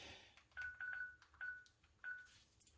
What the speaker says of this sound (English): So I'm calling the phone.